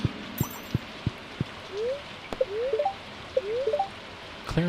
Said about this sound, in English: thank goodness today is going to be a rainy day